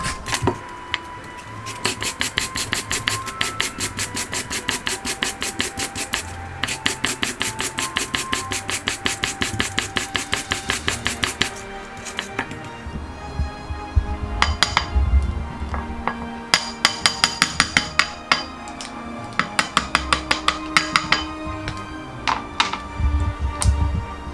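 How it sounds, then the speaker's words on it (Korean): A carrot is rubbed against a grater in fast, rhythmic rasping strokes that come in repeated bursts with brief pauses, close and steady throughout. "당근을 강판에다 가릅니다"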